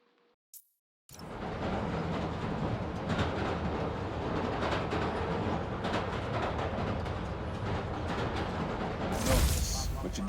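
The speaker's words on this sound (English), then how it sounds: "Hearing the clatter of the wheels, the squealing when the trains turn or stop" Train wheels clatter steadily on the rails in Spider-Man: Miles Morales, a loud continuous rumble that starts after a brief silence and ends with a bright metallic squeal near the close.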